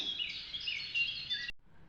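Several birds calling at once, a dense burst of high, bright chirps and twitters lasting over a second before cutting off abruptly.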